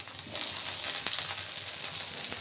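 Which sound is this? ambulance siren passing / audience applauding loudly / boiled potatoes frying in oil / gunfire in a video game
boiled potatoes frying in oil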